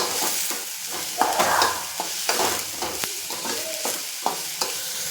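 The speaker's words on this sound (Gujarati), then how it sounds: "હવે એને સરસ રીતે મિક્સ કરી દઈએ એટલે આપણી ગ્રેવીમાં મીઠું ચડી જાય" Salted gravy for spicy Maggi noodles being stirred in a pan, with repeated spatula scrapes and knocks over a steady sizzle, close and fairly loud, no talking.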